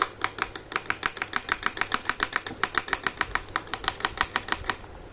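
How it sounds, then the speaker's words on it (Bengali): A knife chops carrots on a cutting board in a quick, even rhythm of sharp taps, around thirty crisp strikes in five seconds, close and clear with no talk. "হাতকে সামলে আমরা এখন গাজর কাটছি"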